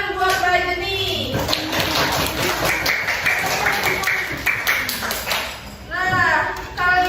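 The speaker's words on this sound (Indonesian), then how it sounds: "Oke, tepuk tangan buat Rajini." A primary-school class gives a round of clapping for a student named Rajini, a mid-level patter of hands mixed with children's voices and chatter in the room.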